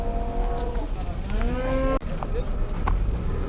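A calf moos loudly and close by at a livestock bazaar in Turkistan, one long drawn-out call with a rising tone, heard over the steady crowd noise of the market.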